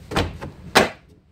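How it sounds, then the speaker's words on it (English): Storm door of a mobile home, giving two soft knocks and then a sharper latching thud as it shuts, close, with quiet surroundings. "We know we want to make sure that the storm door is shut all the way."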